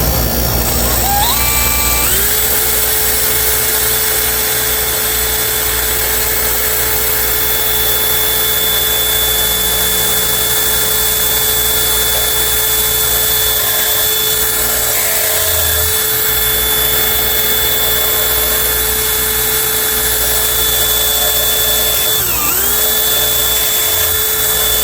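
A steady high-pitched whine of a drill spinning a wire wheel brush on a 1956 Ford 850 tractor, loud and continuous, with a brief dip in speed near the end.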